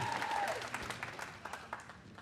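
Spectators at a BattleBots Proving Ground event clap and cheer in a dense, rapid patter of applause that sounds fairly distant and gradually thins out over a couple of seconds.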